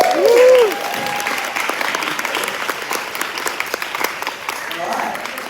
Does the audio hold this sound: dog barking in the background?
no